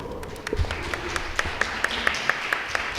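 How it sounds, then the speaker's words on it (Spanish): Scattered, steady clapping from a modest audience at an education forum in Mexico, individual claps spaced fairly evenly and moderately loud over low room murmur. "Le damos un aplauso, por favor."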